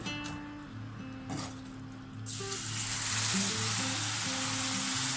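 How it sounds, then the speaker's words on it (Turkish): Steady sizzling and bubbling as hot milk is poured onto semolina in a pan, growing louder and brighter midway through, with faint clinks of utensils. "Sıcak sütümüzü irmimizin üzerine döküyoruz önce."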